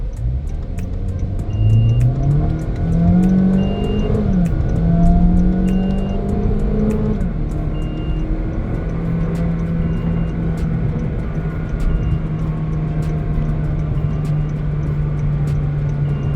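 2019 Honda Vezel 1.5 hybrid accelerating hard from a standstill in sport mode, the engine climbing in pitch through held gears, then settling into a steady drone at speed, heard from inside the cabin.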